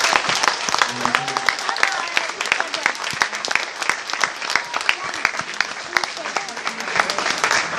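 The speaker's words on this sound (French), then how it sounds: "D'ailleurs je pense qu'on peut applaudir ces jeunes-là pour..." Energetic audience applause for a group of young people, sharp individual claps clearly separated, close and loud, with scattered voices mixed in.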